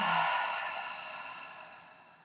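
Slow, deep exhale during a guided relaxation exercise for the neck, shoulders, wrists and feet, one long soft sigh-like breath out that fades gradually, close and quiet with no talking.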